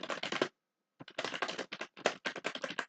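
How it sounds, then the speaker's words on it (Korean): Rapid clicking of keys on a computer keyboard as member data is typed in, bursts of keystrokes with a short pause near the start, close and clear with no talking. "타이핑을 해서 한번 회원 정보를 넣어 보겠습니다"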